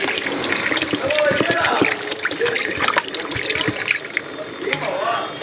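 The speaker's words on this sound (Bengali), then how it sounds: "আমি কিন্তু এবার জলটা দিয়ে দেবো।" Water is poured into a pan of fried masala for an egg and potato curry, a bright trickling, splashing stream with sizzle underneath, while a voice talks over it.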